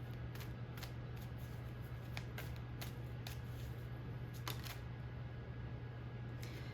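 Tarot cards are shuffled and drawn in a series of quick, crisp flicks and snaps over a constant low electrical hum, with a faster cluster of riffles near the middle and end.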